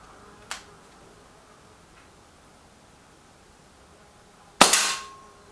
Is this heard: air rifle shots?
yes